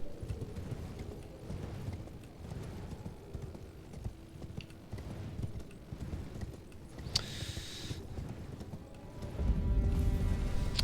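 The spectral horse mount Torrent in the Elden Ring video game gallops with a steady clatter of hooves and gives one sharp, loud neigh partway through, after which the hoofbeats and ambient game noise grow heavier.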